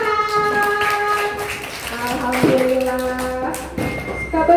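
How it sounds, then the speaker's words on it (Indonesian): Elementary school children clapping their hands in a classroom: rapid, rhythmic pats in quick bursts, mixed with young voices chanting or singing along at close range. "Tepuk tangan."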